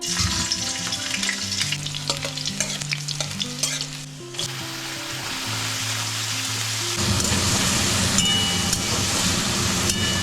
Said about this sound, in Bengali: চাউমিনের সবজি ভাজা হয়ে গেছে